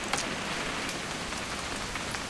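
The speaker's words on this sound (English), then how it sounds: "It's gonna rain the whole weekend, isn't it?" Steady rain falling outdoors, a dense even hiss with occasional sharper drops, moderately loud and with no voices.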